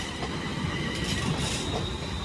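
A London Northwestern Railway passenger service to Rugby runs past close by, its wheels and carriages giving a loud, steady rumble with a high metallic whine above it, and no one speaks.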